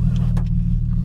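Nissan 350Z car engine running just after start-up, a loud, steady low rumble with a regular pulsing idle throughout and a few faint clicks above it.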